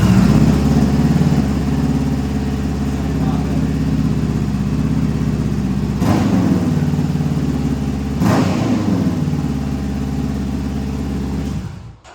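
A 2022 Honda CBR500R motorcycle fitted with a Coffman's shorty slip-on exhaust runs close by, its loud, steady idle broken by two quick throttle blips before the engine cuts off at the end.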